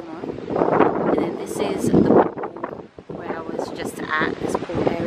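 Wind gusting across an outdoor pool area with a green seating section in Lanzarote, a broad rushing noise buffeting the microphone, heard under continuous close talking.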